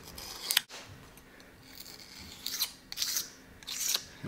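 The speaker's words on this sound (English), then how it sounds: "take a nice sharp razor blade and go over it, scrape up any remaining gasket material we have left" A sharp razor blade scrapes old gasket material off the mounting surface of an outboard motor's water pump, giving quiet, intermittent rasping strokes in short bursts.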